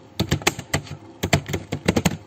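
Steady typing on a computer keyboard while writing out a SQL REVOKE statement: bursts of close, crisp keystrokes with brief pauses between groups, no talking.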